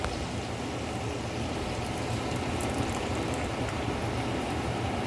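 Liquid pours into a pot of jambalaya on the stove, a steady, soft, hissing wash of sound that runs evenly throughout without talk.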